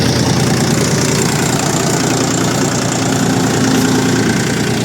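A combine harvester engine idles close by at 1100 rpm, a continuous low rumble with a faint knocking texture that holds even throughout.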